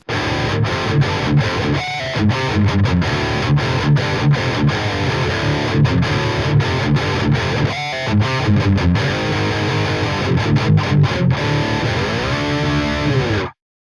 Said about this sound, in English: right channel's rhythm guitar tone sounds like this.